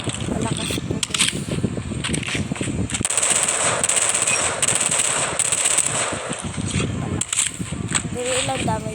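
Rapid bursts of video game gunfire, loud and close, with a few pauses between volleys and faint voices underneath.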